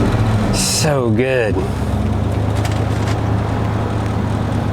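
A 2004 Ford Mustang Mach 1 Turbo with its exhaust cutout opened rumbles in a steady low drone close by, while someone talks briefly over it near the start.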